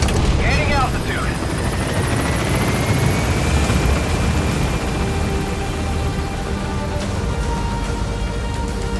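A helicopter lifts off in Metal Gear Solid V, its loud rotor roar and whine filling the scene steadily, with a voice speaking over the engine noise.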